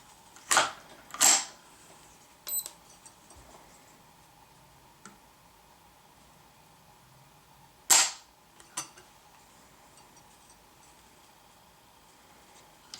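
Ruger 10/22 factory trigger pulled twice, with two loud sharp snaps near the start and another crisp snap later, plus faint mechanical ticks in between against quiet background.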